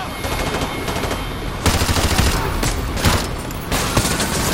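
Heavy automatic gunfire in Call of Duty: Modern Warfare 2 Remastered, a dense, loud, unbroken clatter of machine-gun bursts with stronger volleys swelling in at several points.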